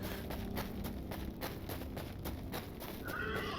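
A horse in the video game Hytale clip-clops with a rapid run of hoofbeats against a steady game ambience, moderately near and fairly quiet, with no talking.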